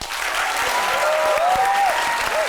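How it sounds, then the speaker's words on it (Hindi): Audience applause fills the room steadily at a moderately loud level, with a whistle-like tone rising over the clapping. "सर लो एक बार और फिर दिल से तालियां"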